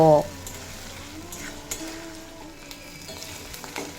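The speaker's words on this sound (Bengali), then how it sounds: "মশলার কাঁচা গন্ধ চলে যাওয়া পর্যন্ত কিছুক্ষণ ভেজে নেব" Spices frying in a pan for a Bengali fish-head and pui shak (Malabar spinach) curry give a steady soft sizzle with occasional stirring clicks, after a brief louder clatter at the start.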